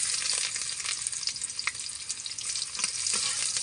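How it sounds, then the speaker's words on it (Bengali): Chopped onion dropped into hot oil with black cumin and whole garlic, hissing loudly in a dense, bright, continuous sizzle with a few faint stirring clicks, close up and with nobody speaking. "এবার দিয়ে দিচ্ছি পেঁয়াজ কুচি।"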